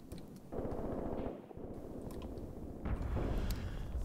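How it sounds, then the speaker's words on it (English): Artillery shells land in the war game Graviteam Tactics Mius Front, heard as rumbling distant blasts and rapid crackling bursts over a continuous low roar, fairly quiet overall. "It's pre-scheduled artillery,"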